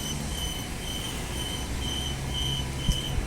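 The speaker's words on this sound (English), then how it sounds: "Airport Line departing." An Airport Line train departs Maylands Station in Perth, a steady broad rumble of wheels and motors with faint high tones, continuous and fairly loud throughout.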